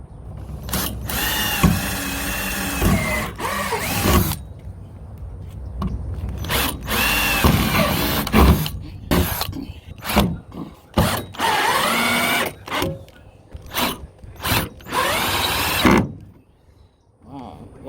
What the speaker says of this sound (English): now put your drill back in. Finish drilling all the other holes